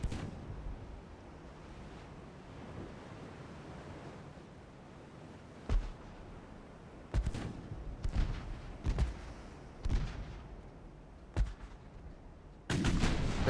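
Battleship secondary guns fire in the naval game Ultimate Admiral: Dreadnoughts, a series of sharp, booming shots at irregular intervals over a low rumbling wash, with the heaviest cluster of blasts toward the end.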